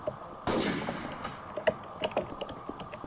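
A gunshot headshot in Garry's Mod Trouble in Terrorist Town: one sudden loud, sharp blast that rings briefly, then a scatter of light clicks and taps like keyboard and mouse presses.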